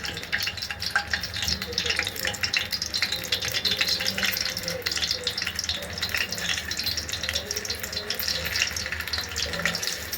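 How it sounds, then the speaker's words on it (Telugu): Liver cubes frying in hot oil for a Telugu thotakura liver curry, a steady dense sizzle and crackle that runs without pause, close and moderately loud. "ఒక్కొక్కటి మెల్లగా వేసుకొని ఫ్రై కావాలి."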